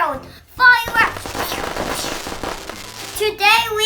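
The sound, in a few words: fireworks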